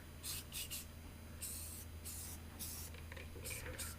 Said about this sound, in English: spray it. So next I'm going to shake my can.